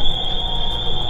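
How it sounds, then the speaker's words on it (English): A store alarm blares as a loud, steady high-pitched electronic tone, continuous and close for the whole moment, with no talk over it. "We hit the alarm."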